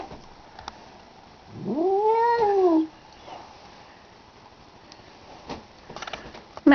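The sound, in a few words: cat yowling at a dog outside the window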